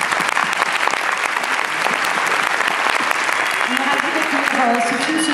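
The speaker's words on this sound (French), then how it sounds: "Vous pouvez les applaudir." Festival audience applauding at a European short-film screening in Brest, a thick steady roar of clapping with voices rising faintly underneath toward the end.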